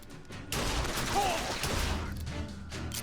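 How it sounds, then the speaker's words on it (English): Hand cannon shots fired in quick succession in BioShock Infinite on 1999 mode on Xbox 360: a loud burst of gunfire begins partway in and sustains heavy, crashing reports with no talk. "how effective the hand cannon is with these quick headshots I'm going to be pulling off here"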